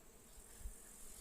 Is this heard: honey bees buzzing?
yes